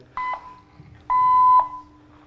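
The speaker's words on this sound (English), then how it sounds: "it makes the robot beeps" Two electronic beeps from a Bluetooth-controlled robot sound close by, a short one and then a longer steady tone, over faint background noise.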